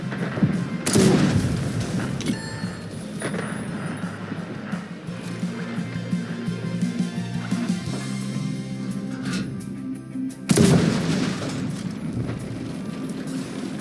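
Two heavy tank-cannon blasts boom in the World of Tanks winter raid mode, one near the start and one near the end. Between them, a steady engine-like game rumble continues.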